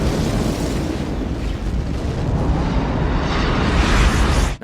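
A nuclear explosion from the film Independence Day roars as a loud, sustained rumbling blast that holds steady for several seconds, then cuts off abruptly.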